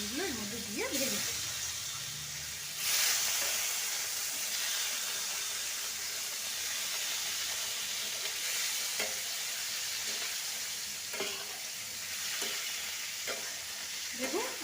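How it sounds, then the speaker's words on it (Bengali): Paneer frying in hot oil with a little turmeric, a soft continuous sizzle and hiss under occasional stirring, while a voice talks now and then. "এবার আমি সব পনিরগুলো এর মধ্যে দিয়ে ভেজে দেবো।"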